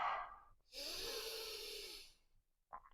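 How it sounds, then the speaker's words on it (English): Slow, deep breathing during a yoga stretch: a long, soft breathy exhale close up, with a brief intake before and another starting at the end. "Nice deep breathing here."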